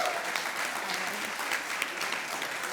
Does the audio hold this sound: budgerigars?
no